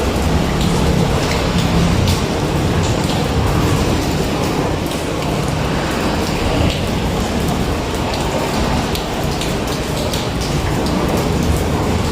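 Heavy rain pours outdoors during car washing, a loud, constant roar of drops hammering surfaces with deep thunder rumbling underneath throughout, and no voices.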